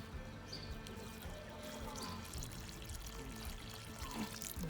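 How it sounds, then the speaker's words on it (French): Water poured from a watering can over two freshly planted, mulched pak choi seedlings in a vegetable garden, a steady close splashing trickle onto damp soil with faint birdsong behind. "et puis j'arrose"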